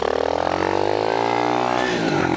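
A pit bike motorcycle engine revs hard and close, its pitch rising steadily and holding high in a buzzy, continuous drone with no talk over it.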